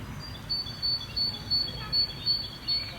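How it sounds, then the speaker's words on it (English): Birds chirp in a villa garden, a short repeated high call sounding roughly every third of a second in seven even bursts, moderately close over a quiet low outdoor rumble. "You can hear birds"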